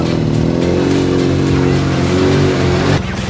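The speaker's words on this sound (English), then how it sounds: "we're taking the RZR around the track." Polaris RZR side-by-side driven around a race track at night, a loud close engine drone with steady pulsing harmonics, easing off at the end.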